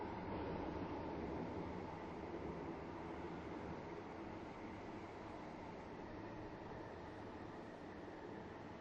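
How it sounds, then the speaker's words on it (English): A train rumbles into a platform in the Roblox game Stepford County Railway, a steady loud broadband roar holding for several seconds without pause or speech. "The train now approaching Platform 2 terminates here."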